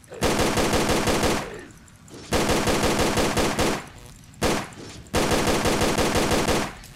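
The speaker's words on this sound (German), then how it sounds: "Dann schieße ich meine Magazine an den Viechern leer." Bursts of rapid automatic gunfire in Tomb Raider: The Angel of Darkness empty magazines at creatures, three long sustained volleys and one short one separated by brief pauses, loud and close.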